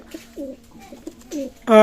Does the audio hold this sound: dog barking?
no